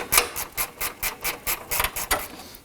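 Gear wrench ratchet loosening 10mm bolts on a 2018-2024 Toyota Camry 2.5L during radiator replacement, a quick series of about ten crisp clicking strokes in an even rhythm, close and clear.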